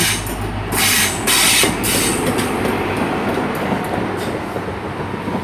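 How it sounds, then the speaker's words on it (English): A cross-country passenger train to Glasgow Central rolls into the station with a steady rumble and rhythmic wheel clatter, loud and close, with bursts of hiss and squeal as it slows. "coming in now is a cross-country service to Glasgow Central"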